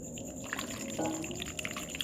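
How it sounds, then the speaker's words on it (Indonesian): A short pour of broth into a bowl, a soft watery trickle with a few faint drips. "Kemudian kita siram kuahnya."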